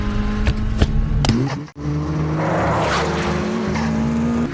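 Race cars drifting in a street race, a Toyota AE86 against a Nissan GT-R from the film Initial D: loud engines rising in pitch with squealing tires and a car rushing past, then sustained revving.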